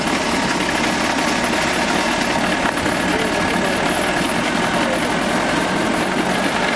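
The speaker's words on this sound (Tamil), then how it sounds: "இன்ஜின் ஏதோ பண்ணி டீசல்ல வந்து ஸ்டார்ட் பண்ணிட்டாங்க" A diesel engine runs steadily at close range, a constant rumbling drone with rattling vibration and no pauses or voices.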